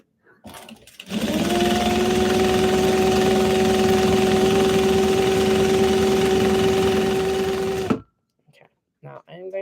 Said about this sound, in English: Put a little bit back stitch on the corner.